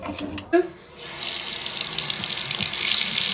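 Water from a newly installed bathroom sink faucet runs in a steady, close hiss that starts about a second in, after a few brief knocks and a short vocal sound.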